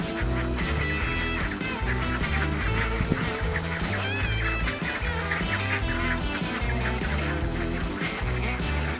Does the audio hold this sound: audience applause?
no